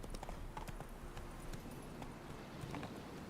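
Horse hooves clip-clop steadily at a trot in The Witcher 3, a continuous rhythmic patter of game-world hoofbeats at moderate, even loudness with no voices.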